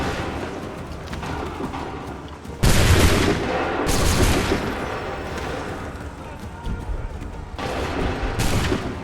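Musket volley fire during the Battle of Bunker Hill in Assassin's Creed 3 erupts as loud, dense booming bursts over a constant rumble of battle noise, with a second volley swelling near the end.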